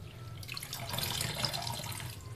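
Tap water runs while mustard greens are washed for sarson ka saag, a soft, continuous splashing and trickling close by at low volume, with no talking.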